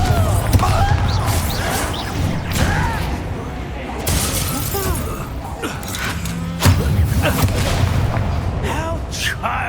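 Confringo fire spell bursting in the Hogwarts Legacy video game, a run of loud crackling blasts and shattering impacts layered over game music and effects, with a voice speaking over the action.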